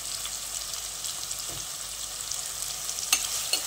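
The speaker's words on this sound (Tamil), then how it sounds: "வெங்காயம் நல்லா வதங்கட்டும்" Onions and about a dozen crushed garlic cloves sizzle steadily in a pan, a continuous close frying hiss with a few soft stirring scrapes.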